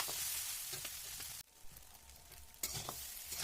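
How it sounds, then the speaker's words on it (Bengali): Boiled pasta tossed and frying in oil in a pan for chicken pasta, a soft continuous sizzle with scraping stirs that drops out briefly and then returns at the same level. "পাস্তাটা বেশ সুন্দর করে ভেজে নিয়েছি ঝরঝরে করে"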